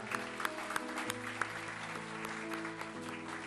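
Church congregation applauding during a worship service, clapping mixed with sustained organ or keyboard tones and scattered louder claps throughout.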